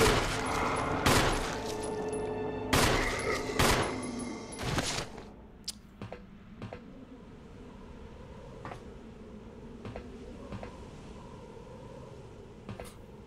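Gunfire in the Resident Evil Remake video game: a few loud, sharp shots in quick succession during the first five seconds, then quieter game ambience with scattered faint clicks and thumps.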